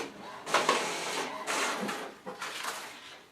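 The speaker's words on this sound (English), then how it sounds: "It's printing." A home-and-small-business Wi-Fi printer feeds paper and prints a simple page, its close mechanical whirring and rattling coming in several uneven bursts that rise and fall over a few seconds.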